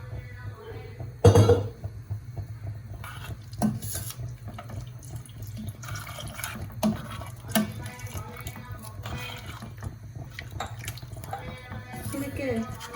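Water is poured into a pot of simmering Naidu-style mutton curry, a steady running-water wash under kitchen noise with a sharper splash and clink of utensils near the start and faint voices in the background.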